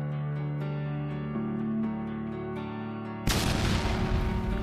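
An explosion in a data center server room, heard as a steady layered electronic hum with shifting tones that abruptly gives way to a loud, sustained burst of broadband noise near the end.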